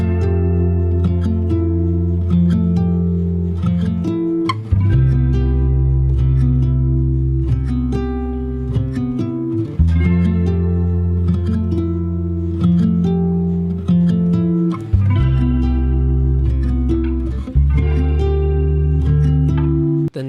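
Electric guitar playing sustained chords in an R&B arrangement, in steady phrases that change every few seconds over a deep bass, clean and alone.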